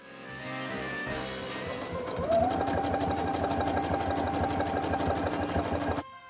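Sewing machine stitching darts on the front and back pieces of a retro 1960s-style dress, the motor starting after a moment and then running in a steady, continuous whir close by until it stops near the end.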